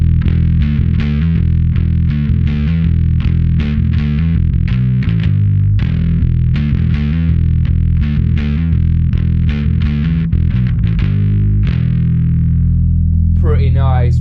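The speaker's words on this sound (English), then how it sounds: "I might jump in and do something with a distortion pedal. For this one I've got the Dark Glass B7K." Bass guitar driven through a Dark Glass B7K distortion pedal, a gritty, saturated riff of rapid plucked notes with bright upper overtones, loud and close throughout, ending in a sustained note.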